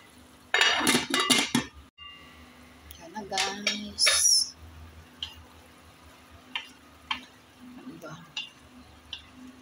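A lid goes onto a cooking pot of sari-sari vegetable stew with mushroom and okra, giving a few close metallic clanks and clatters, then softer light ticks. A voice talks in between.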